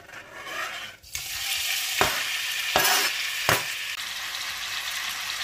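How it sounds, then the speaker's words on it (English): Steady loud sizzling of chicken and pork stir-frying in hot oil, with a few sharp scrapes of a utensil stirring in the pan. "Once oil is sizzling, add your meat."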